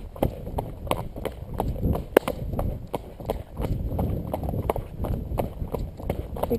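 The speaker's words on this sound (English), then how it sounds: "when we get out here and we start going uphill, I ask for canter" A horse canters uphill on an outdoor track, its hooves drumming in a steady three-beat rhythm, close and clear, with rider and tack noise mixed in.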